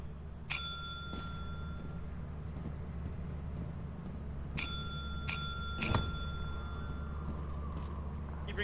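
A small service bell in the video game Lethal Company dings in bright, ringing strikes: one early, then a quick run of three later, each decaying over a faint steady hum.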